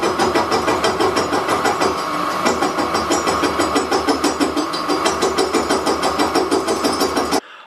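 A machine tool cutting a motor bore with a big ball nose cutter during a blown-motor restoration, producing a loud, continuous rhythmic chatter with regular pulsing beats that stops abruptly near the end.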